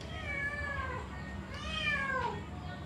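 A cat meows twice in drawn-out, rising-and-falling calls, close and fairly loud, in a home kitchen while tahu pentol is being prepared, with a short pause between the two cries.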